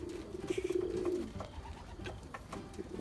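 Pet pigeons coo in a low, throaty, rolling call that sounds clearly up close, then repeats more softly among faint rustling and soft taps.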